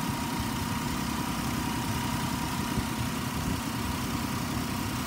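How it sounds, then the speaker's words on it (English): Steady engine idle from a 2007 Ford Explorer XLT with automatic transmission, a continuous low rumble with even vibration holding at a constant level throughout, no talking. "It idles smooth, revs up nice."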